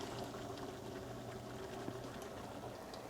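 Creamy parmesan sauce simmers in a pan, a quiet, steady bubbling and fizzing close by, with one small pop partway through and no voices.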